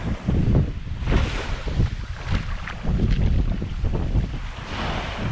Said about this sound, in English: Just letting the wind dry me off as I walk back slowly to my place.